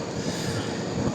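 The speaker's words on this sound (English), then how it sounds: "that's my train to Lisbon Orient" A train bound for Lisbon Oriente at a station platform gives off a brief, steady rail rumble with faint wheel noise, moderately loud and with no one speaking.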